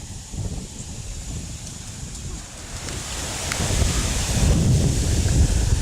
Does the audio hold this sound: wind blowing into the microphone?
yes